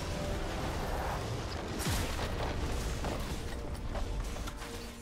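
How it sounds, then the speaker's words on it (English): A turret is destroyed in League of Legends with a dense, loud rumbling crash of booms and crumbling debris that fills the clip, a sharp falling sweep near the middle and the din staying thick throughout. "Red team's turret has been destroyed."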